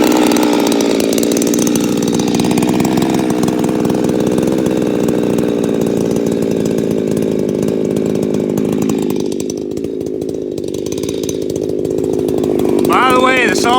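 A warmed-up Husqvarna 357xp chainsaw runs loud and close in a steady high-revving drone that sags slightly under load while cutting, then picks back up to full throttle near the end.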